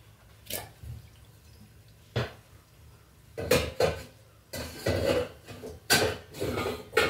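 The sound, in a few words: lid being put on a cooking pot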